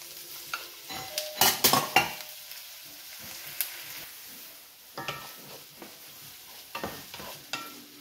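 Tomatoes hit a hot pan for a vegan dish, then sizzle faintly under scattered bursts of stirring and a utensil scraping the pan, with quieter gaps in between.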